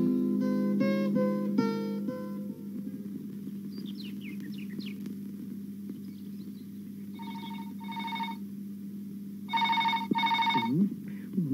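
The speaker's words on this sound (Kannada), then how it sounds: "ಫೋನ್ ಬೇರೆ ಒಂದೇ ಸಮ ರಿಂಗಿಂಗ್." A telephone rings in repeated bursts, with trilling rings at the start and two more sets later, over a steady low hum, with some chirps in between.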